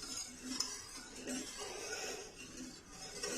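A spoon stirs Turkish delight mixture in a pot on the stove, giving faint, steady scraping with soft metallic clinks throughout.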